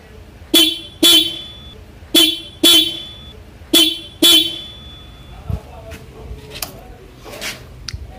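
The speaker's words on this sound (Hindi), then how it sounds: "अभी मैं ये वाला हॉर्न भी आपको टेस्ट करा" An old vehicle horn being tested honks in six short, loud blasts, some in quick pairs, followed by softer clicks and faint background noise.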